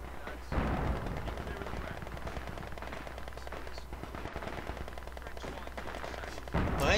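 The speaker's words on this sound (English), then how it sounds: "Why are you shooting things?" Rapid machine-gun bursts from a World War II–style real-time strategy game, a dense continuous rattle of automatic fire sustained throughout with heavy low-frequency rumble, close and loud, with faint game voices briefly audible underneath.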